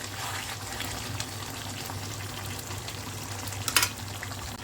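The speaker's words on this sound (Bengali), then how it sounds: "তারপর হচ্ছে আমি ভালো মতো নেড়ে চেড়ে দিব।" Spicy chicken curry with half a tomato bubbles and sizzles softly in a pan while being stirred, a low steady frying hiss with a short sharper splash of movement near the end.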